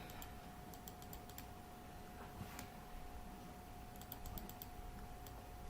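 Someone types on a computer keyboard while entering steel grade values into a concrete foundation design spreadsheet, giving quiet bursts of key taps over a steady low hum.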